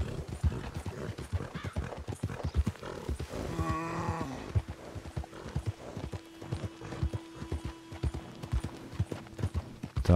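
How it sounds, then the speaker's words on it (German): A horse ridden through a forest in the video game Red Dead Redemption 2 keeps up a steady, close clip-clop of hooves, with a brief tonal call partway through. "Da reiten wir noch ein bisschen durch den Wald."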